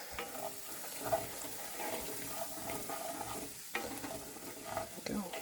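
Milk poured into a hot cast iron pan for gravy, giving a soft continuous sizzle and bubbling with faint scraping and stirring, quiet and close, no voices.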